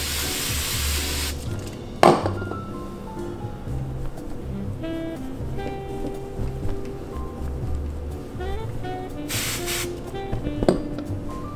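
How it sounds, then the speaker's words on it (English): Bounce rapid touch-up wrinkle spray hisses from a can in short bursts over clothing, with a sharp clink of the container and light handling noises between sprays. "So you just spray it."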